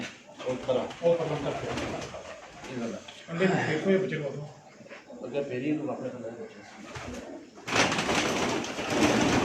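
Low rolling coos from pigeons kept on a rooftop loft, including a champion female, come in repeated bursts beneath near-continuous male speech, ending in a louder noisy stretch.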